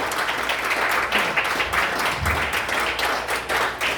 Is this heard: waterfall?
no